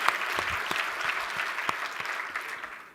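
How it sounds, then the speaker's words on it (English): An audience at a teachers' summit bursts into applause, a full, even roar of clapping that holds steady and then starts to fade at the end. "round of applause for that"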